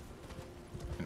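A horse's hooves in the video game Elden Ring clip-clop in a quick, even rhythm, close and fairly soft, over a brief stretch.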